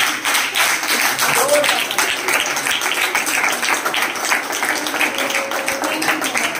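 A church congregation claps loudly and steadily through the whole stretch, a dense roar of hand claps that sounds like enthusiastic applause filling the worship hall.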